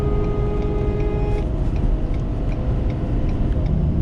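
A car overtakes on the open road, heard from inside another vehicle as a steady engine and road rumble with a fading tonal whine, no talk.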